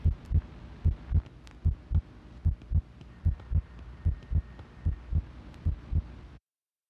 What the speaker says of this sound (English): Heartbeat is just very loud.